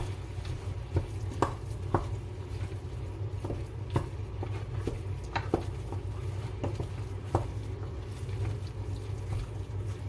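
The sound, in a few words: stirring ground beef and sausage meat for lasagna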